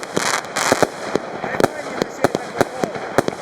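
A METAL BOX PXC220 firework cake fires a fast series of sharp shots in a steady rapid rhythm, loud and fairly close, with background rumble between bursts and people talking faintly.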